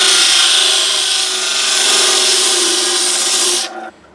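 Sanding on fresh 80 grit sandpaper during an American Strat bridge post repair, a steady, loud abrasive rasp of a rolling power sander that continues evenly and cuts off near the end.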